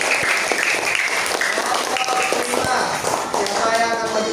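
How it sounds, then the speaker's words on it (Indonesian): Students in a classroom clap for a group that has just presented, a short burst of fairly close applause with some taps, and voices mixed in. "Tepuk tangan untuk kelompok"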